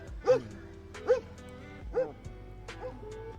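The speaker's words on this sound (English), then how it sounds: "let's see if we can talk to the dog" Police K9 dog at a protest outside federal officers' position, giving three loud, spaced woofs followed by a softer yip and whimper, near and clear over faint background noise.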